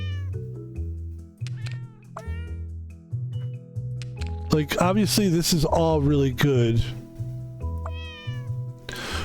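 Cartoonish cat meows from the video game Cats Organized Neatly repeat in short bursts, with a lively music loop underneath. Someone talks over them, and a longer, drawn-out caterwaul rises in the middle.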